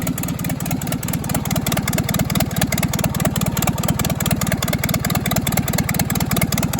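An old bulldozer engine running after sitting for 15 years, a steady, loud, rhythmic diesel chug close by with a fast even pulse and no talk over it.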